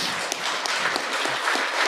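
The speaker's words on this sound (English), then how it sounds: "I actually don't want your applause." A live audience breaks into applause at a spoken reflection, a dense, steady crowd clapping that fills the space evenly, with no voice over it.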